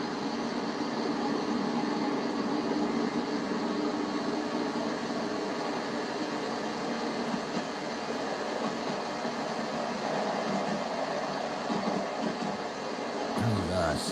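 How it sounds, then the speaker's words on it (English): A train in the Train Sim World game, a dense continuous rumble and hiss of rolling rail noise, steady and fairly loud throughout with a short change near the end. "I hear another train"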